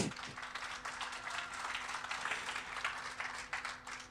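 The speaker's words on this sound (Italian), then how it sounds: "Comunque se mi applaudite sono contento." Audience applause at a conference, a dense sustained clapping that starts abruptly and carries on steadily for several seconds, moderately distant, under a faint steady hum.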